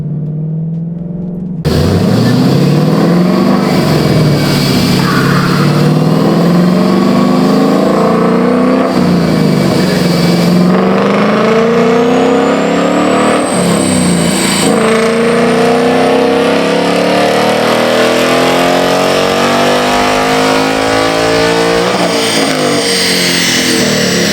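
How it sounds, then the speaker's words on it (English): A car engine revs hard and steadily on a dyno for a long stretch, pitch climbing through repeated pulls with brief drops between, loud and close. "I finally got this car up on a dyno."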